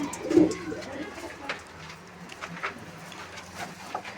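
Low, throaty cooing from pigeons rises near the start, then continues softly amid light rustling and scattered clicks.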